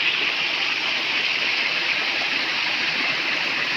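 A waterfall on a forest stream pours with a steady, loud, unbroken rushing roar from close by.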